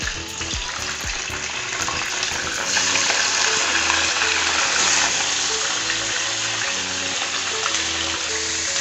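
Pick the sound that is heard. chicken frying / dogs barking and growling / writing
chicken frying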